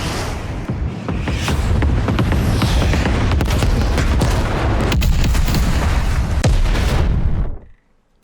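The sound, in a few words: explosion after detonation in Call of Duty: Black Ops Cold War video game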